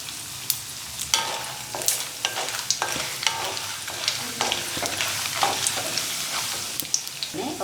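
Peanuts and dried red chillies fry in hot oil for curry leaf rice, giving a bright continuous sizzle broken by repeated sharp scrapes and knocks of a spoon stirring in the pan.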